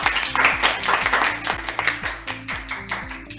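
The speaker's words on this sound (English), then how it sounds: "Can I have a big round of applause for Vaivesh?" A group claps for a quiz winner at a Gold Medal Let's Talk event. Dense, steady clapping fills the moment, with a sustained musical tone running underneath.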